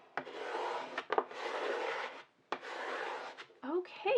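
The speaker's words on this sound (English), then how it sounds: "And now I'm going to reinforce that with a scraper" A scraper rubs firmly over removable vinyl stencil and transfer tape for a Cricut Joy project, making three long, close dry scraping strokes separated by brief pauses and small taps.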